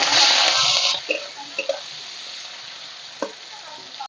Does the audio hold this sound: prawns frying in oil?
yes